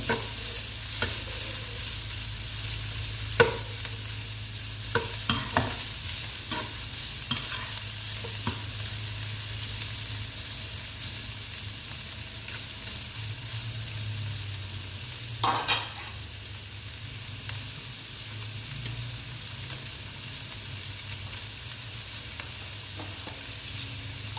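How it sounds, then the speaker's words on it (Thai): Mee sua noodles with cabbage are stir-fried in a pan, giving a continuous low sizzle broken by sharp clacks and scrapes of a spatula against the pan. "ชอบแบบไหนก็ผัดเลยค่ะชอบกรอบกรอบก็ผัดไม่ต้องนาน ถ้าชอบแบบนิ่มๆก็ผัดนานนิดนึง"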